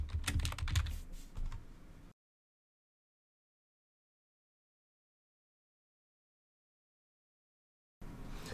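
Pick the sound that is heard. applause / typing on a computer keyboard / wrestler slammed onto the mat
typing on a computer keyboard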